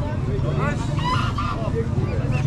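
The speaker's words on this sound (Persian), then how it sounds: "خسته نباشین. بچه غازه؟" Geese or goslings honk repeatedly at a busy Sunday street bazaar in Khomam, Gilan, northern Iran, with nasal calls rising over steady crowd babble and nearby voices.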